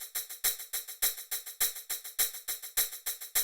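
A hi-hat sample from a Splice collection plays a steady, fast pattern of bright, crisp hits, each with a short shimmering decay, repeating evenly and alone.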